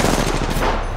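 Rapid automatic gunfire from Apex Legends, dense and loud, fills the moment as a continuous close burst with no voices over it.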